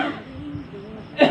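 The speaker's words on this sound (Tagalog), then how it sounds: "Pasensya na po sa mga ubo-ubo dyan." A person coughs or clears their throat once near the end, a short harsh burst following a stretch of quiet room tone with faint background murmur.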